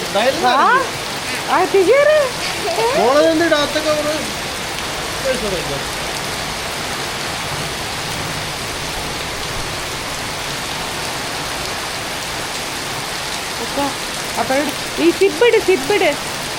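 Heavy rain falls as a continuous broadband hiss throughout, with voices talking over it at the start and again near the end.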